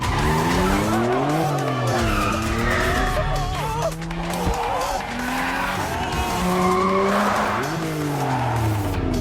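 A damaged car with no working brakes drifts and skids hard, its tires squealing in long, rising and falling wails over a continuous loud engine roar, with repeated slides running through the whole stretch.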